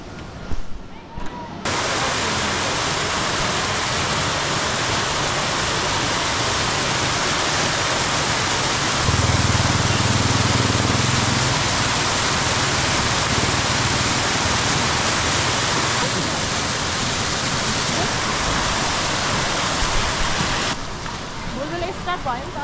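A waterfall on the road to Dorpa, Bhulbhule and Diktel in Khotang district, Nepal, gives a steady, dense roar of rushing water that fills the whole span, loud and near, with no other sound standing out.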